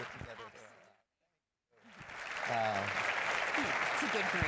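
Audience applause at a university association's annual meeting closing session, starting after a short pause and building into a dense, steady round of clapping. Voices carry over it at the start.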